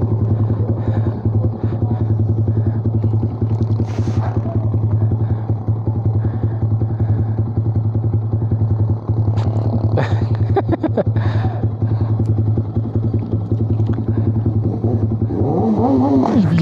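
Kawasaki ZX10R motorcycle riding on the road, a steady loud engine drone running throughout with a few clattering knocks and a rising rev near the end.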